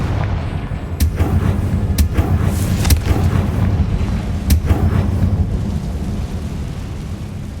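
Rumbling explosions from the Confringo blasting spell in Hogwarts Legacy, with several sharp bursts over a steady loud roar of game ambience, booming repeatedly for several seconds.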